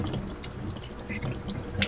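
Water drains and splashes from a Skywing five-stage alkaline water purifier after a replacement filter is installed, a steady close trickle with small bursts throughout.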